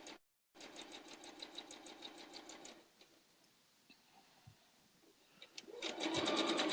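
A sewing machine stitches quilt fabric pieces placed right sides together on a scant quarter-inch seam. It runs in a steady, close mechanical whir for about two seconds, pauses, then starts up again loudly near the end.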